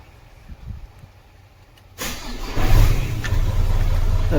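A Mercedes-Benz Actros truck's engine cranks and catches after a quiet pause, then settles into a loud, steady, close-up rumble that holds to the end.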